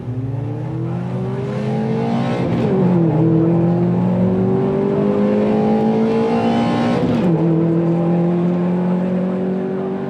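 A race car at the start of a race, its engine revving hard and loud, rising in pitch through gear changes as it accelerates away, a continuous roar with no talk.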